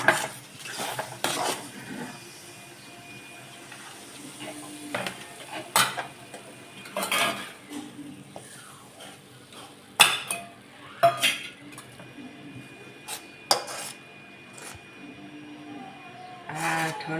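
Mango barfi mixture is poured and spread into a tray with a metal spoon, giving irregular clinks, taps and soft scraping strokes against the pan, close and fairly quiet, with pauses between them.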